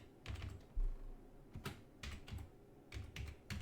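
A computer keyboard clacks through a burst of quick, quiet keystrokes in small clusters as a terminal command is typed, with no voices.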